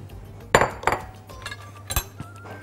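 Mushrooms being fried in a pan are stirred with a utensil, giving several sharp metallic clinks and knocks against the pan at an uneven pace, fairly close, with no talking.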